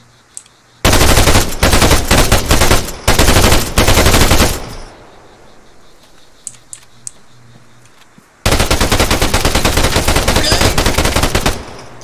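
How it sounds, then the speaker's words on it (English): Automatic gunfire rattles in the military shooter game Arma 3. Two long, loud bursts of rapid shots are separated by a quieter gap with a few isolated pops, then a third sustained volley follows. "I am shooting through all of your armor."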